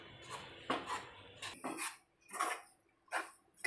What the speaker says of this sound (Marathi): असं व्यवस्थित ढवळून घ्यायचं आहे। सतत ढवळत राहायचं आहे आपल्याला,